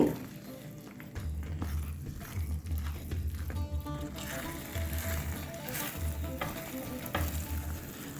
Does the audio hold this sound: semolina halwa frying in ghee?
yes